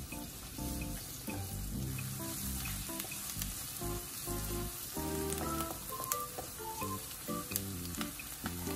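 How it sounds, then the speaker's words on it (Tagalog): Chopped onions sautéing in a pan while cooking pork giniling, a continuous close sizzle and crackle with occasional stirring scrapes. "ilagay na natin ang ating chopped onions. Isutay lang natin muli hanggang sa ito ay mag-caramelize"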